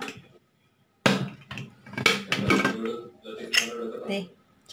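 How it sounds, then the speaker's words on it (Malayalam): A pressure cooker of jackfruit seed and mango curry is opened, with a sudden metallic clank, then clattering of the lid and pot against other metal in a close kitchen. A voice talks throughout. "ഇനി നമുക്ക് കുക്കർ തുറക്കാം."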